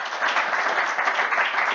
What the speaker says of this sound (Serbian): Ja vas molim za jedan mali aplauz